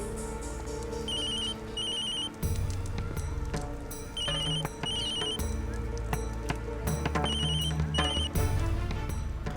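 A telephone rings in bursts of repeated electronic trills over a busy music backing, several ring cycles in a row, loud and close, with no talking.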